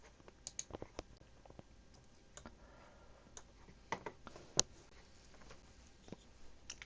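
Scattered key presses on a computer keyboard, used to nudge and position an item on screen for a lighting project layout; quiet, irregular clicks with gaps between them, no talking.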